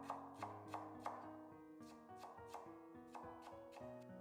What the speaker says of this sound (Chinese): 半个洋葱先横着给它切成条， 再旋转90度给它切成碎末